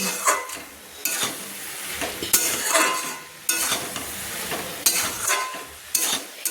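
Cabbage fries in a pan while a spatula stirs it with chopped coriander leaves in repeated scraping strokes over a crackling sizzle, with occasional clinks against the pan and no voices.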